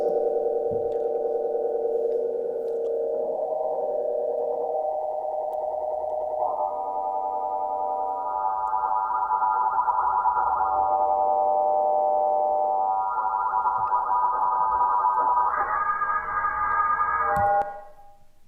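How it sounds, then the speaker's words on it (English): Saxophone caught in a pitch-shifting feedback loop, a sustained electronic-sounding drone that climbs in distinct stepped jumps of pitch, loud and continuous throughout with no voices, before cutting off abruptly at the end. "the pitch shifting is really interesting because it's trying to update the pitch and then it's feeding back"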